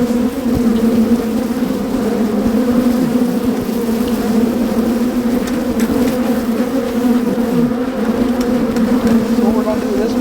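Honeybees buzz loudly and steadily around an open hive during an inspection, a dense close-up drone with no pause from start to finish.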